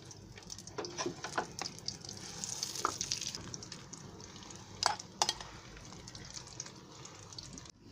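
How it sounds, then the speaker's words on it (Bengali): Chana dal paste frying in hot ghee gives a soft, low sizzle, broken by irregular scraping and clicking as it is stirred in the pan. "খুব ভালো করে নেড়েচেড়ে এই বুটে ডালের পেস্টটাকে ঘিয়ের সাথে ভেজে নিতে হবে"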